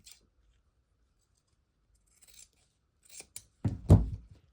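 Scissors snip through excess denim jeans waistband fabric, a few short crisp cuts after a quiet pause, growing louder toward the end.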